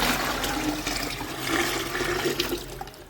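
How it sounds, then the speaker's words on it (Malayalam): Rice water (kanji) poured into a container of water, a continuous close splashing gush lasting a few seconds, with no talk. "അതിലേക്ക് ഞാൻ കഞ്ഞിവെള്ളം ഒഴിച്ചു കൊടുക്കുന്നുണ്ട്"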